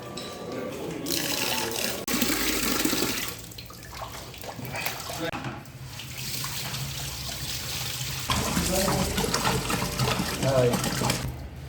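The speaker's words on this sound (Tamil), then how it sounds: "எப்பயும் போல 2 கழனி எடுத்துட்டு அரிசியை கொட்டிட்டோம்" Seeraga samba rice being rinsed in a pot for goat biryani: water pours and splashes steadily as the grains are swirled and washed, loud and close, with a voice talking intermittently.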